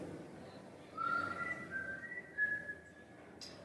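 A person whistles a wavering, rising and falling tune in an empty theatre, fairly quiet with soft room ambience and a brief high squeak near the end.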